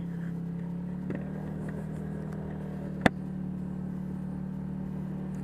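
A Honda PCX scooter with a stock engine, 17-inch wheels and an aftermarket exhaust being ridden: a steady, fairly quiet engine drone with one sharp click midway and no talk.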